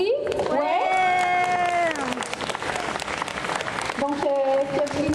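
A convention crowd at a costume masquerade claps warmly for a team in handmade costumes, with a loud voice cheering and calling out over the steady applause.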